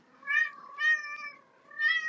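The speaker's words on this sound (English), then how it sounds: "sorry for my cat. He is spoiled right now." A male pet cat meows three times, close and clear in a quiet room, each call rising and falling with short pauses between them.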